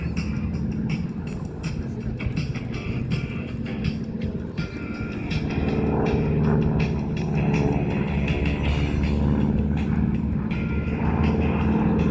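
A propeller plane drones overhead at the Atlantic City Airshow, its engine rumble steady and fairly loud, swelling slightly toward the end with no talking.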